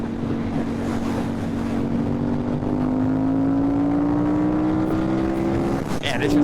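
A 2008 KTM 990 Super Duke motorcycle accelerating in fourth gear, its engine note climbing steadily through heavy wind rush while the rider speaks briefly.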